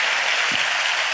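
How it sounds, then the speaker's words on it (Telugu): A church congregation claps together during a sermon, a dense, steady burst of applause filling the short moment. "చప్పట్లు కొడుతూ స్తోత్రాలు చెప్దాం."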